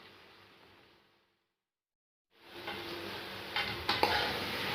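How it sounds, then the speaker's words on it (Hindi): Chicken pieces frying in a pan for cauliflower chicken give a faint sizzle that drops to near silence, then return as a louder, brighter frying hiss with a few stirring scrapes, close and with no voices. "मैं तकरीबन 1 से 2 मिनट तक अच्छे तरीके से इसकी भुनाई करूँगी कि जब तक चिकन का जो है वो कलर ना चेंज हो जाए"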